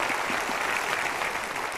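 A brief burst of audience applause, steady dense clapping from a crowd at a motivational talk, filling the whole moment without pause.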